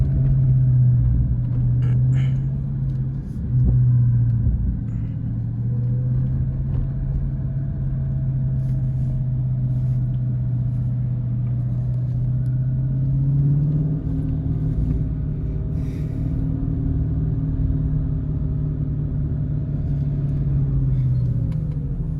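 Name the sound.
Dodge Charger Scat Pack engine rumbling while driving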